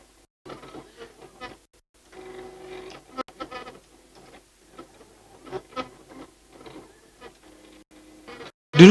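A Silhouette Cameo 2 cutting machine cuts polyflex heat transfer vinyl with bursts of whirring motor and mechanical buzzing, close by, stopping and starting in short irregular runs.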